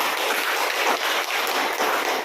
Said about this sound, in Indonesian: tepuk tangan buat Asisya